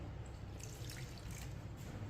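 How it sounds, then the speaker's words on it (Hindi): A small amount of water is poured into a bowl of mixed ground spices, including coriander, for a chicken dish, making a faint, close trickle and drip in a quiet kitchen. "थोड़ा सा पानी डाल लेंगे"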